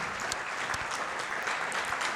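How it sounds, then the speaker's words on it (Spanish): Steady audience applause in an auditorium after a panel on cybercrime and cybersecurity in the State of Mexico, a moderate wash of many hands clapping throughout with no clear speech over it. "Nuevamente un fuerte aplauso"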